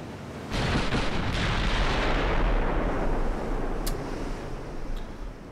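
A video game warship, a French dreadnought, fires a heavy gun salvo of HE shells: a loud, close booming blast with a long rumbling roll that slowly fades, and a sharp crack near the end.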